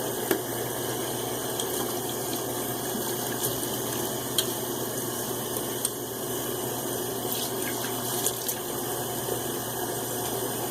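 A bathroom tap runs steadily to wet a head before shaving, a constant close hiss and splash with small bumps and no talking.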